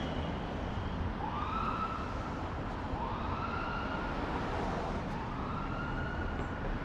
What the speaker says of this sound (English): that ambulance just flipped its lights on